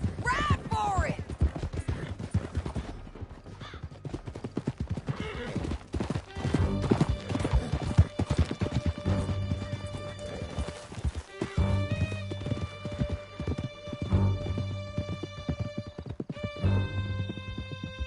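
Horses gallop hard through a canyon, a fast rolling clatter of hooves with whinnies, under dramatic music and shouted voices.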